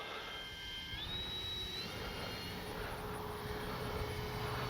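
RC airplane fitted with a brand new motor, flying at moderate throttle, gives a steady high-pitched electric whine that climbs in pitch, heard continuously at a distance over outdoor wind noise.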